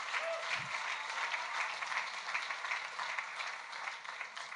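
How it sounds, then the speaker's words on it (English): Audience applause rises and continues steadily, a soft, distant wash of many hands clapping with no voices over it. "I like that I just got clapped for doing something like 15 years ago or something."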